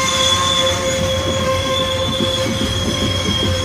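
A Burlington Northern Santa Fe freight train rolls past close by, loud and steady, its wheels squealing on the rails with a continuous metallic whine over rumbling rail noise.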